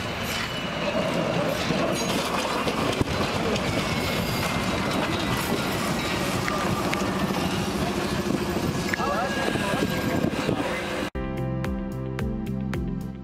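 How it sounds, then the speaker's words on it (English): A train in Poland runs loudly through a controlled crash with a car, giving steady rumbling and clattering wheel noise with some squeal, before an abrupt switch to a different sound at the end. "A controlled accident of a car with a train in Poland."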